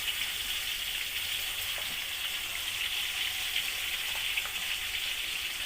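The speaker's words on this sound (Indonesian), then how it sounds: "Setelah itu tomat yang diperas tadi dimasukkan penggorengan," Squeezed tomatoes frying in a pan for chili sambal, a steady, moderately loud broadband sizzle that holds evenly throughout with no talking.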